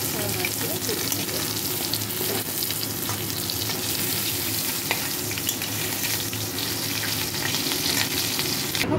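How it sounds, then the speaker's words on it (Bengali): Pieces of bata fish fry in oil in a wok, a dense, steady sizzle and crackle close up, with occasional clinks and stirring throughout. "এবার আমি বাটা মাছগুলো ভেজে নেব।"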